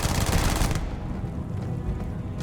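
Rapid pistol fire in the Starfield video game, a dense burst of quick, loud shots crowding the first moment, then tapering into softer echoing reports and faint clatter.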